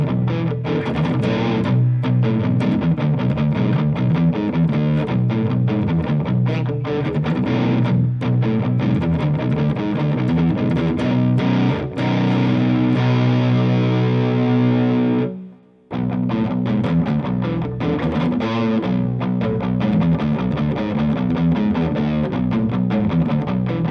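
Distorted electric guitar, a Harley Benton FanFret 7 seven-string, played on the lower strings with a heavy, thick tone, sustained riffing that briefly cuts to silence near the end before resuming.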